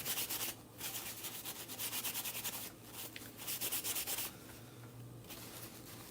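Chalk paint being rubbed down by hand over a chicken coop, a steady scratchy sanding-like friction in repeated strokes, close and fairly quiet, with brief pauses between passes.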